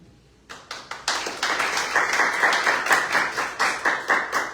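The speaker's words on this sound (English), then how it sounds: "They're clapping for you" Applause from a poetry reading audience starts with a few scattered claps, then swells into steady, moderately loud clapping from a small crowd that continues to the end.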